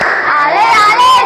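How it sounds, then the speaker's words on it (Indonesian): Schoolchildren in an Indonesian classroom doing a rhythmic group clap chant, a short burst of hands and young voices together, loud and close. "Tepuk semangat."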